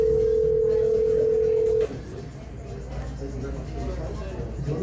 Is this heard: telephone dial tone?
yes